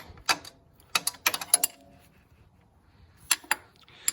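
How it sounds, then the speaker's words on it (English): Ratchet tightening a 14 mm nut on a steering stem: bursts of quick metallic clicks in short groups, separated by pauses, close and crisp in a quiet workshop. "I'll take my 14 mil, tighten it down."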